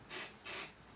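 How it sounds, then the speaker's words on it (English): Basting spray from a can sprayed over a quilt in a craft studio, two close, loud hissing bursts each lasting about a quarter second, with no talking. "I'm going to spray it over the trash, okay?"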